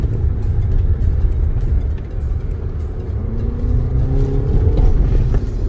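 Turbocharged Toyota car engine during a rally test drive, a steady loud drone with a rising whine as the engine pulls through acceleration.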